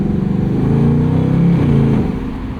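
A 2024 Ford Mustang GT V8 pulling in second gear after a downshift from fourth, a loud, close, deep guttural drone that swells steadily and eases slightly at the end.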